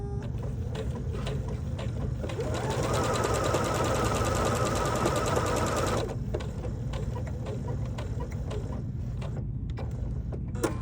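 A sewing machine stitches a bucket hat in a fast, even mechanical run that starts partway in and stops abruptly, with fainter clicks and handling noises before and after.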